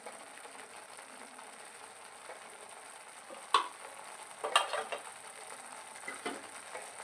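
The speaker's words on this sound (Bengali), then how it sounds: "ভালো করে নেড়ে নেব।" Palak paneer being stirred in a frying pan, with a steady, quiet sizzle and a few sharper scraping strokes of the spoon against the pan, no voices.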